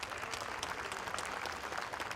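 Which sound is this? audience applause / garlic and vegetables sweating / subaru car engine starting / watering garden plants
audience applause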